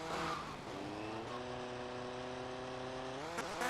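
Video game motorcycle engine in GTA Vice City, a steady droning tone that holds its pitch, then revs upward near the end, with game background sound underneath.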